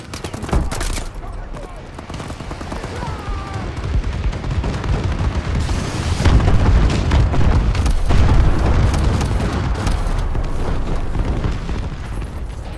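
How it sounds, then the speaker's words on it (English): Friendly bombing run explosions rumble through a video game match on the Riot map, with dense, overlapping booms and gunfire-like bursts. They build to a heavy, sustained barrage near the middle and roll on loudly to the end. "Friendly bombing run clearing the way."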